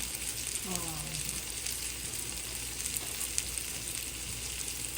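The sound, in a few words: egg frying in oil in a pan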